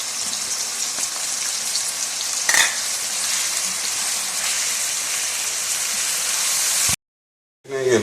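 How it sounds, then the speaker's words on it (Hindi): Ginger garlic paste frying in hot oil in a pot of chicken haleem with lentils, a loud, steady, close sizzle that runs continuously with a brief stirring scrape partway through. "ये हमारा लहसुन अदरक इसके अंदर फ्राई हो चुका है"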